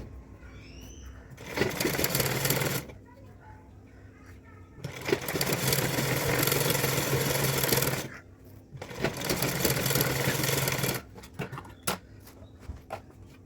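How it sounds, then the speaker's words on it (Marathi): A sewing machine stitches a puff sleeve with elastic, sewing a seam on the lining in three close, rattling bursts of a few seconds each. Quiet pauses fall between the bursts. "आता सोयीच्या बाजूला एक टीप मारून घ्यायची आहे."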